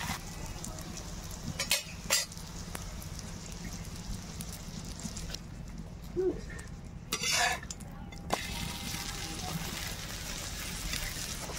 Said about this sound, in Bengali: এইভাবে আমি বাকি পরোটাগুলো ভেজে নেব।